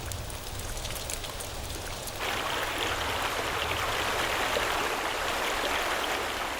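Heavy rain falls on the Zambezi floodplain as a steady broadband hiss that swells louder after the first couple of seconds, with a low rumble underneath and no voices.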